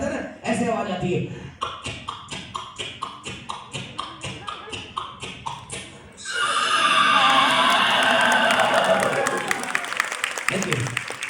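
A voice imitates a horse's four hooves walking with a steady series of sharp rhythmic clicks and clops, then breaks into a loud whinny as an audience bursts into applause.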